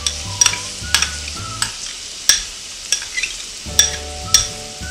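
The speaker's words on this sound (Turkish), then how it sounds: "Ve kavurmaya devam ediyorum." Two medium chopped onions fry with tomato paste in a pan for a Turkish topalak soup with meat, a steady sizzle broken by periodic sharp scrapes and knocks of a stirring utensil, with no talking.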